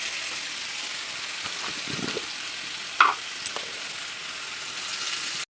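Nuts frying in a pan make a soft, continuous sizzle, with a few light clicks of utensil contact and one sharper tap midway, then the sound cuts off abruptly.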